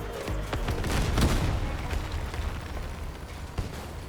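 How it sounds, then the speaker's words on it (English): Explosive Doom wheel launchers firing in the vehicle combat game Crossout, a dense stretch of rumbling blasts and bursts that rolls on without a break, with no voices. "I'm gonna lob some explosive wheels of doom to greet them"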